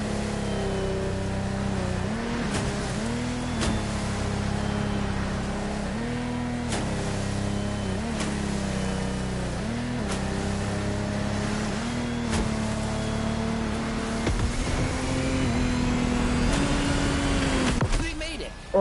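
Lamborghini Technomar speedboats racing in The Crew Motorfest, a sustained loud engine drone with steady pitch wavering and brief dips, running continuously throughout with a voice talking over it.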